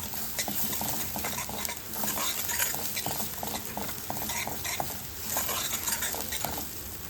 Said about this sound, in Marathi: असं चमच्याच्या उलट्या साईडने मी मिक्स करून घेते व्यवस्थित